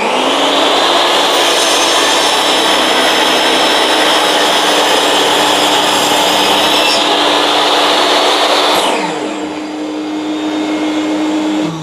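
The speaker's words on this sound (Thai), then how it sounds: "ตัดให้มันเอียงนะครับวันนี้ทำขาเอียงหน่อย" A DeWalt DWE7492 table saw cuts oak at a bevel angle for slanted table legs, a loud steady whining roar that holds for about nine seconds, then shifts pitch as the blade leaves the wood and keeps spinning.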